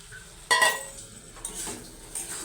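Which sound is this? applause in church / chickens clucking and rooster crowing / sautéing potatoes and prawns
sautéing potatoes and prawns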